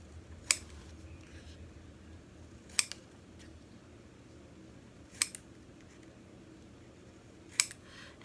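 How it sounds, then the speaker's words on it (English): Scissors snipping the ends of card stock for a small handmade Father's Day greeting card, four sharp isolated cuts spaced a couple of seconds apart in a quiet room. "And then what I did was I just cut the ends."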